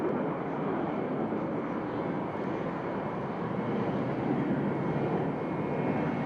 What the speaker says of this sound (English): the return of the Mackies, the 326, once the mount of the roulettes, now fulfilling a useful role as an advanced trainer